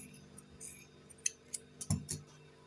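Scissors snipping through fabric to cut a piece in two for an elastic waistband, a few soft close clicks and crisp snips in a quiet room, with no voice.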